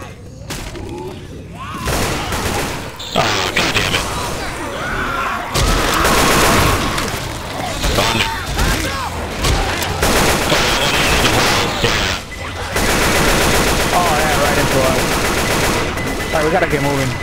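Dense bursts of incendiary-ammo gunfire from Left 4 Dead 2 on The Sacrifice barge map, loud rapid volleys and booms nearly nonstop, with voices calling out over the shooting.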